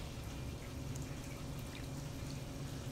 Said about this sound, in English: I'm actually going to pour a bunch of water across the surface of this tray